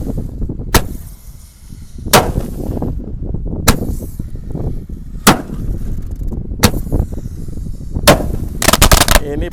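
Roman candle fireworks set off in the ground outdoors, sharp loud popping shots spaced about every one and a half seconds, ending in a quicker burst, over steady background rumble.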